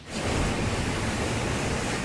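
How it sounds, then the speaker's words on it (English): Heavy surf from a nor'easter storm pounds steadily against a seawall in Scituate, Massachusetts, a dense, roaring wash of water with no pauses, loud and close. "You can see just how hard these waves are crashing against this seawall."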